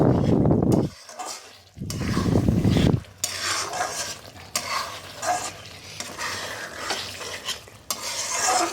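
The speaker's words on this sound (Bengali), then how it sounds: "এবারে ভালো করে একটু নাড়িয়ে চাড়িয়ে মশলাটা মাখিয়ে নেবে" Egg masala stirred with garam masala in a pan, heard as a utensil scraping and clinking against the metal with a steady frying sizzle, loud scraping bursts at first, then softer stirring and clatter.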